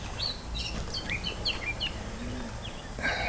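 Several birds chirp and twitter in quick, high bursts in a small garden in southern Alabama, fairly faint, with a soft low background hum.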